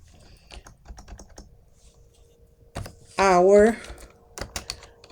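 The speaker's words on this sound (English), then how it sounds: "I'm going to go ahead and type" Fingers tap a computer keyboard in scattered clicks while someone talks nearby, with a short mechanical whir partway through.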